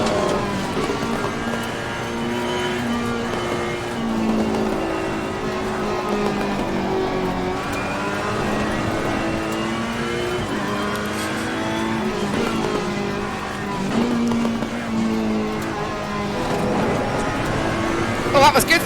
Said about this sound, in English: you do drive a car fast in this game